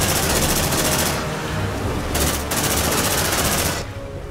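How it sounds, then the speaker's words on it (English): A deployed sentry gun in Aliens: Dark Descent opens fire in rapid sustained automatic bursts, loud and close, with brief gaps between volleys before the shooting tapers off. "Deploying sentry gun."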